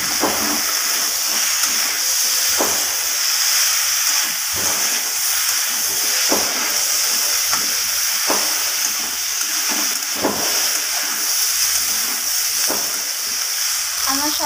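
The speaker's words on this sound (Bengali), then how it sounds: "ফুলকপি আলুগুলোকে সব কিছুর সাথে ভালোভাবে এইভাবে কষিয়ে নেব।" Fried cauliflower and potatoes sautéed in a pan for a vegetable curry, giving a loud, continuous close sizzle and hiss with occasional scraping stirs of the spoon.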